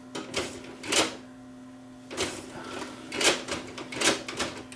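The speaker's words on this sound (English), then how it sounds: "it looks like the disc tray might be sticking a bit" A Magnavox CDB582 CD player's disc tray sticks as it moves, with a suspected worn drive belt giving little torque. Several separate mechanical clicks and clunks come close by, spaced irregularly over a steady low motor hum.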